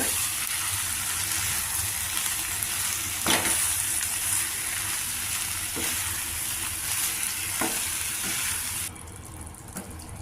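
Eggplant curry with ginger and green chili paste frying in a pan, a steady loud sizzle with a few sharp stirring scrapes, ending in a quieter hiss.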